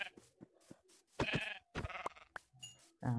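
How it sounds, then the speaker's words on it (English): Sheep bleating in the Minecraft video game, several short bleats in quick succession, loud and close with brief pauses between calls. "Sorry, Mr. Sheep, but I need this."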